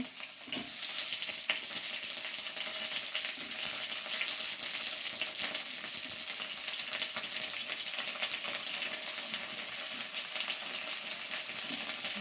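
Cauliflower and potato pieces fry in a pan, a loud continuous sizzle with occasional stirring scrapes, steady from start to finish with no voices.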